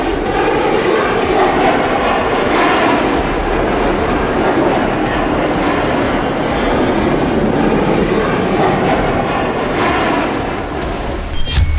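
Russian Tu-142 aircraft engines roar steadily and loudly, a dense continuous drone that stays close and unbroken throughout, with no voices heard.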